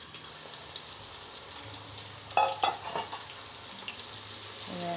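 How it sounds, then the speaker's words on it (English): Sliced shallots frying in a pan of oil, a soft steady sizzle with a few sharp clinks and scrapes of stirring partway through, then the bubbling swells slightly louder toward the end. "we are adding some salt to slice shallots before we fry it."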